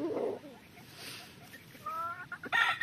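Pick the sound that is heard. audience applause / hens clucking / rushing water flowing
hens clucking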